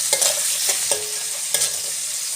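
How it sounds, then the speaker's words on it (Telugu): Puffed rice breakfast fries in a pan with chopped vegetables, a soft continuous sizzle broken by a few sharp scraping strokes of the stirring spoon, close by and without speech. "ఇది కూడా కొంచెం అంతా ఫ్రై అవ్వనివ్వాలా."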